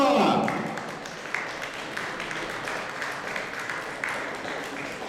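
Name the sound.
audience applause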